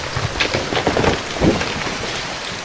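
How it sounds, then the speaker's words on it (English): Heavy rain pounding a wooden homestead with thunder, a dense, loud, continuous wash of rain with low rumbling swells, heard close and alone without talk. "the weight of the rain pummeled the homestead until it collapsed"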